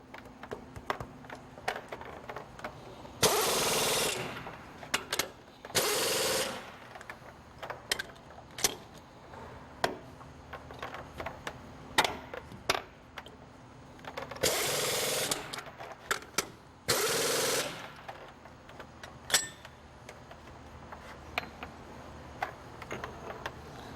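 Bolts being tightened into a fixture on a Besser Posapac vibrator shaft assembly: scattered metallic ticks and clinks of tools, with several longer bursts of ratcheting or rattling, close-up in a quiet workshop.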